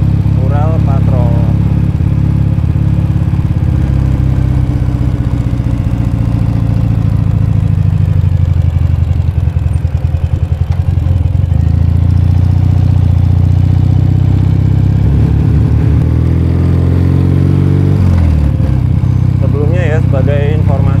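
Engine of a 2017 Ural Patrol sidecar motorcycle, 749 cc, on a test ride: a loud, steady low rumble that rises and falls in pitch. Someone talks over it for much of the ride.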